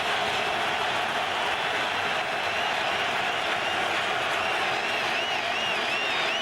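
Stadium football crowd roaring steadily on a defensive down, a broad sustained wash of noise at a pro game between the Patriots and Vikings, with no pauses.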